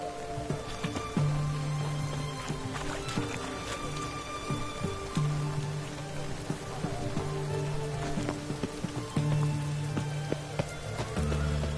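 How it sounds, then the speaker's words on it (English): A steady heavy downpour in The Witcher 3: Wild Hunt patters continuously on surfaces, with occasional low rumbling tones and scattered clicks mixed in. "What a downpour."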